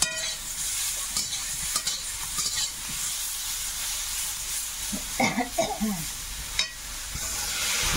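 Tomato and green chili sizzling with browned potatoes in a pan, stirred continuously with close scraping and a bright hiss throughout, a voice briefly heard partway.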